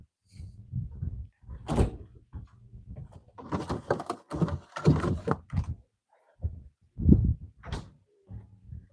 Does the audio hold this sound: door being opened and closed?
yes